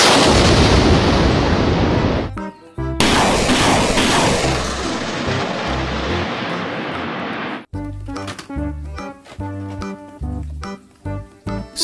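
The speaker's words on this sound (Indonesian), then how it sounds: "Rocket truck. Truk roket." Rocket truck launching rockets in loud roaring, booming bursts, with a short gap between volleys, then sharper, rhythmic blasts toward the end.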